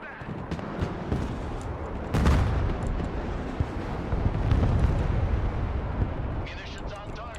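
Artillery fire and explosions in the Broken Arrow military strategy video game, with a sharp blast and rumbling booms over a continuous battle din and under radio-style voices calling out.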